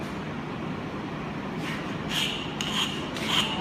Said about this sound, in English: you can then remove the burrs by using a bastard file